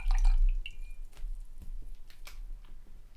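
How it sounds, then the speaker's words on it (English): Paintbrush rinsed in a water cup during an acrylic sunset painting, giving soft close dripping, sloshing and light tapping sounds in scattered bursts with no talk. "I'm gonna rinse out my brush"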